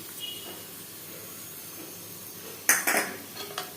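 Spoon scraping and clanking in a pan as fried cashews, raisins and cardamom powder are stirred in ghee for rava kesari; a quiet stretch, then a burst of metallic clatters near the end.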